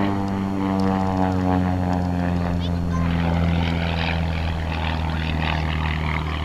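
Engine drone of a Van's RV-4 light aircraft flying a freestyle aerobatic hesitation roll at the Copperstate Fly-In, a steady loud propeller hum with shifting harmonics, heard continuously under a commentator's voice.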